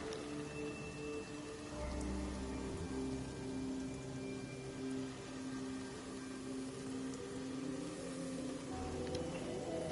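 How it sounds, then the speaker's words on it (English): Steady rain falls just outside an open window, a continuous soft hiss with a low background hum and no voices. "It's just always fairly loud if there's rain going on."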